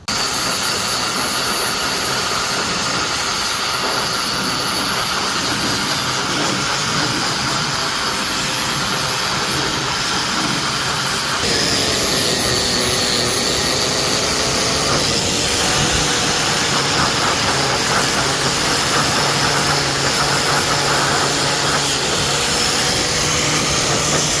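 A power tool with an abrasive wheel strips old sealant from the windshield frame of a 1991 Honda CRX, giving a loud, steady high-pitched whine that runs continuously and shifts tone partway through as the wheel bites into the material.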